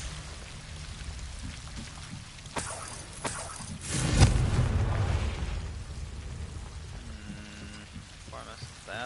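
Fire spell blast at plants in Hogwarts Legacy, a loud whooshing burst with crackling flame that swells and fades over a couple of seconds, preceded by a sharp pop and followed by quieter game sounds.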